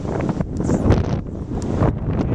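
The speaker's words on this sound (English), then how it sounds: "windier than heck" Strong wind buffets the microphone outdoors at a carp fishing spot, a loud continuous roar with gusting swells and no voices.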